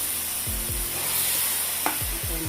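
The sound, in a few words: frying tomato puree with masala in a pan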